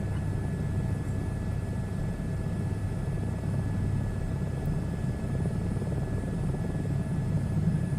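A helicopter in a VR flight simulator game, a steady, even rotor and engine drone that holds at the same level throughout, with no talk over it.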